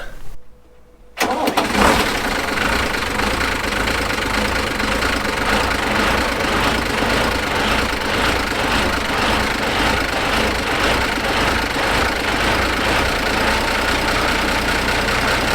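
A Unimog U1300L diesel engine fires up after a brief quiet moment and then idles steadily, a loud, continuous close-up rumble with a faint knocking texture and no talking.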